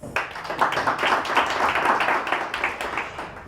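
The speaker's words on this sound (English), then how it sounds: "An applause for that, ladies." An audience claps for a woman serving as a national commissioner for gender equity, a sustained, moderately loud burst of mixed handclaps at a formal event.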